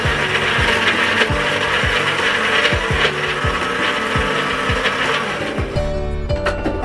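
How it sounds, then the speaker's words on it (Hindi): Electric blender churning a sago drink with sugar and milk, a steady grinding whir with repeated rhythmic thumps as the contents swirl, close and loud throughout, then winding down near the end. "पहले मैं थोड़ा सा दूध ऐड करके इसको जो है मैंने ब्लेंड करना है।"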